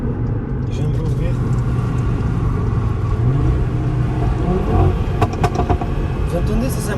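An RS3 car engine rumbles steadily up close in Dubai, with a quick series of sharp, machine-gun-like exhaust pops and crackles near the end, under a voice talking.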